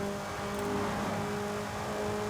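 Car engine held high in sixth gear in Forza Horizon 5, a steady sustained drone with a strong fixed tone throughout, loud and continuous with no talk.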